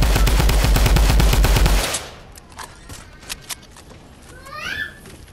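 Fortnite gunfire: a loud, fast automatic burst of shots for about two seconds, then scattered fainter shots and game effects follow.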